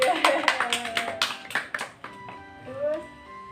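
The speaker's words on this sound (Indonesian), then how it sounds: "silakan tepuk tangan" A small group of students clapping in a classroom lesson, a quick run of sharp, uneven claps that fades out after about two seconds, followed by a brief voice.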